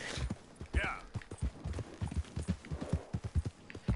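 Horse hooves clip-clopping at a walking pace in the video game Red Dead Redemption 2, a steady near rhythm of hoofbeats with game dialogue and talk over it.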